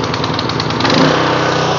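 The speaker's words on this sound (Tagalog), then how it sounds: "I-start na natin yung ating generator. Meron na po itong oil at gasoline. On, choke natin dito." A small PK160a welding generator engine roars steadily right after a pull start, a loud, close, continuous mechanical drone with a rapid pulsing chatter that smooths out as it settles.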